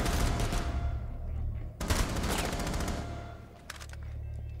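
Rapid bursts of automatic gunfire in the Rainbow Six Siege beta, loud and dense with a short break midway before the firing resumes.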